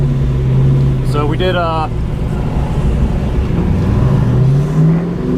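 Car accelerating hard on an autocross course, a loud engine note rising in pitch then dropping and climbing again, heard close from inside the car with wind buffeting and someone talking briefly over it.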